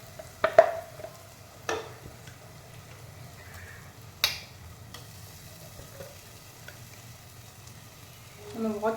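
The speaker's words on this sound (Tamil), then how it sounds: "இது நல்லா ஸ்டிர் பண்ணிகிட்டே இருக்கணும்." Ground cashew paste being stirred in a pan for cashew halwa, with a few sharp scraping strokes of the spoon spaced apart over a faint low sizzle, mostly quiet between strokes.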